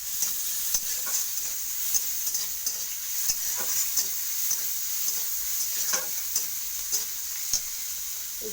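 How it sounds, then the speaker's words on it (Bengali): Garlic fries in hot oil with a continuous bright sizzle, while a spatula stirs it and scrapes the pan in regular clicks and taps, close up with no talking. "রসুনটাকে ওইভাবে লাল করে ভেজে নিতে হবে"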